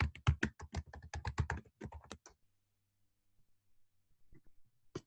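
Someone types on a computer keyboard, a quick burst of close, crisp clicking keystrokes for about two seconds, then near silence broken by a couple of isolated taps.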